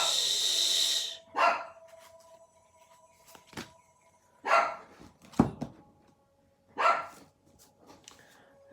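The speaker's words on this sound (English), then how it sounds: "I'm sorry about the dog. I don't know what it's barking at." A dog barks several times in separate bursts, spaced a second or two apart, fairly close against an otherwise quiet room.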